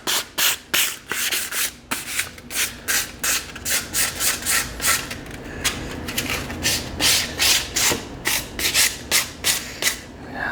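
Hand sanding on the inside back of a wide aftermarket car wheel with 320 grit sandpaper, a quick run of rhythmic scratchy strokes, close and steady with no talk.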